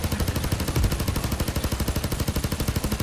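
Rapid helicopter machine-gun fire in the video game Payday 2, a fast unbroken stream of heavy booming shots rattling loudly for a few seconds.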